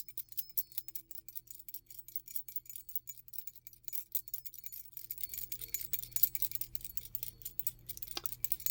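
A set of old keys, once for a father-in-law's house and barn locks, jangles and clinks softly in close, quiet handling, with light metallic rattles scattered across the stretch and a brief sharper chime near the end.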